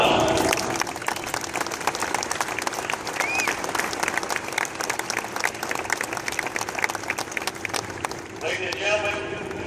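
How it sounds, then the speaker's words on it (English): Audience applause at a SOCOM special operations forces event honouring special operators, a loud sustained wash of many clapping hands with some crowd voices mixed in, tapering slightly near the end. "Please give them a round of applause."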